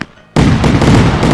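A fireworks cake goes off in the game Fireworks Mania, starting after a brief quiet moment with loud, rapid crackling bursts that pile on each other in a dense barrage.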